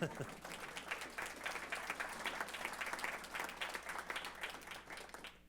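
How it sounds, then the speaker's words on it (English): A round of applause from the audience at a turnpike authority board meeting in Oklahoma, steady dense clapping filling the room throughout and slowly tapering off at the end. "I think that deserves a round of applause."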